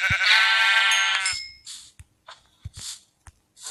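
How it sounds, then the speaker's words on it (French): Sheep bleating in a video game, a loud, wavering, harmonic bleat lasting about a second and a half, followed by faint clicks and scattered short game sounds. "Je vais vite aller tuer un mouton"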